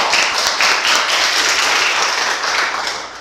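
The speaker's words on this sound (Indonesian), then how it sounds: "Langsung saja kita berikan tepuk tangan yang meriah untuk Kak Falsa" A studio audience on a teen talk show breaks into loud, dense applause to welcome a guest, a continuous wash of clapping that holds strong before tapering slightly at the end.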